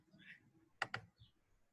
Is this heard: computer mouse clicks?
yes